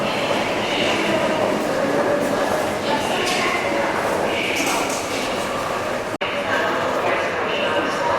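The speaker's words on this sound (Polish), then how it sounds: "No koledzy, ostatni pociąg wasz wjeżdża." A train arriving at a platform rumbles loudly and steadily past at close range, with a continuous roar of wheels and a brief dropout near the end.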